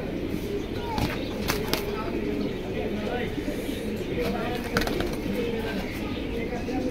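Caged pigeons coo softly with occasional wing flutters, amid a busy pigeon sale setting with people talking over them throughout.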